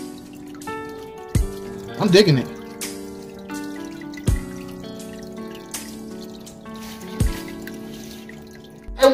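Water from an aquarium filter trickles and drips softly and steadily into a tank at a low water level, with occasional louder splashes, while someone talks close by.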